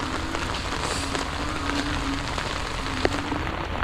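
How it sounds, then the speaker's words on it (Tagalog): Heavy rain falling steadily on a rural property, a dense continuous hiss with scattered sharper drops and one brief louder tap near the end. "Problema naman dito yung sobrang lakas ng ulan naman."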